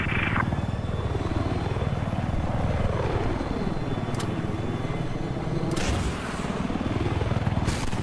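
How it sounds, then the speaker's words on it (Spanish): Enemy helicopter in a video game, its loud rotor thrum sweeping and rising and falling as it flies past, with brief bursts of other game noise cutting in. "He avistado un helicóptero enemigo"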